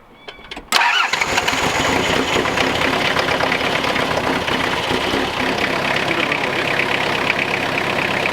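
A Toyota Hilux Surf diesel engine cranks briefly after its glow plugs have heated, catches and settles into a loud, continuous clattering idle that runs to the end, close to the listener.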